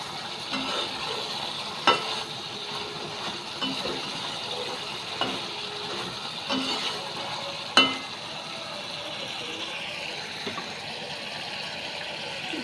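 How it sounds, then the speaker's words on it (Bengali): Mutton fries in a pot with a soft, steady sizzle, and a spoon stirs and scrapes against the metal every couple of seconds. "মটনটা অনেক দিন পর রান্না করছি"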